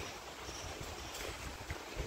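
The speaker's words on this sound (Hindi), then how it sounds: "आप हवा की आवाज़ सुन पा रहे हो" Strong wind roars steadily against the microphone, a dense continuous rush with gusts and no voices.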